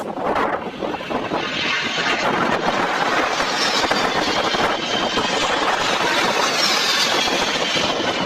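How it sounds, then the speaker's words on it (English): C-17 Globemaster transport planes make a low flyby over the Sunshine Coast in Australia, a continuous loud broadband jet roar with wind buffeting that holds steady throughout. "These C-17 Glowmaster planes were flying back to the airport from a training exercise when they decided to do a low flyby over the Sunshine Coast in Australia."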